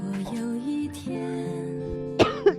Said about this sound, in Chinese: 这孩子咳嗽这厉害